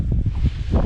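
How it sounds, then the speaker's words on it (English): Wind gusting across open water during kayak fishing, a brief, loud rushing buffet of noise against the microphone with low, uneven swells. "Here comes the wind."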